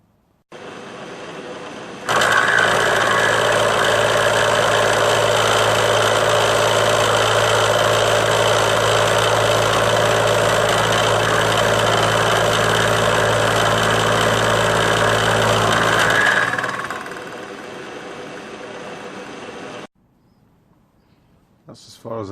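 A milling machine with a small motor of about one horsepower drives a trepanning tool made from a rusty pipe, giving a steady, loud, droning cut for around fourteen seconds before winding down. A quieter hum continues after it.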